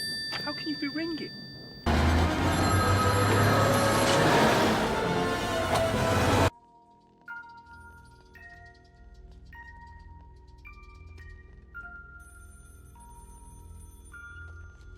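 A telephone rings in the video game White Shadows, a short run of bright electronic tones repeating in a pattern over a low background hum, following a burst of loud noisy sound.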